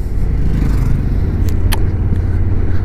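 A car drives down a Swiss road near the border, heard as a steady, close low rumble of engine and tyres with a brief scrape partway through.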